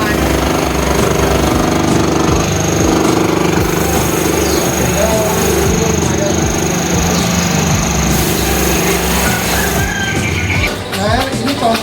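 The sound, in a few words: saw machine cutting wooden educational toy puzzle pieces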